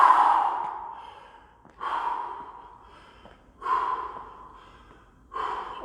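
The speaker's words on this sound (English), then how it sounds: "A couple of deep breaths." A man pants heavily after a burpee workout, taking deep, drawn-out breaths close to the mic, each starting sharply and fading, about four in sequence with short pauses.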